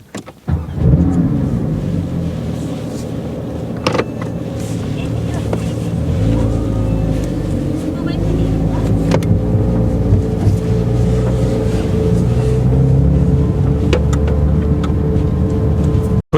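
Porsche 911 GT3 (992) engine running steadily for about sixteen seconds, a continuous low rumble that stays loud and even throughout, with someone talking over it.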